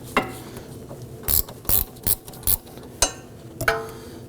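Gear wrench ratcheting while unbolting a brake caliper on a 2005-2009 Subaru Legacy, a series of sharp metallic clicks and short ratchet bursts in an irregular rhythm, close and fairly loud.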